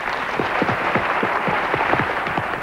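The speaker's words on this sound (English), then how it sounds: "Give yourselves a round of applause." Children and adults at an international children's summit in 1990 applaud together, a steady wash of clapping with scattered heavier thumps throughout.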